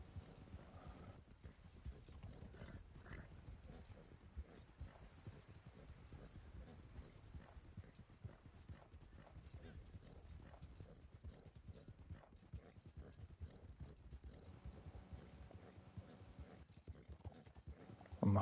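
A horse's hooves clip-clop steadily in Red Dead Redemption 2, a continuous, even trotting rhythm that stays faint and close, with no voices over it.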